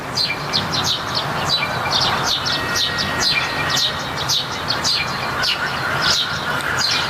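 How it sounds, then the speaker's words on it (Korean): Birds chirp repeatedly in quick bright bursts over a steady background rumble, continuing throughout. "새소리도 들리고"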